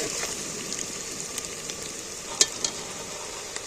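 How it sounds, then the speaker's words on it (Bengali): Onions soften and brown in a hot pan with a steady, close sizzle and hiss, broken by a couple of brief clicks from stirring. "পেঁয়াজটা অনেকটা নরম হয়ে গেছে ভাজা ভাজা হয়ে গেছে"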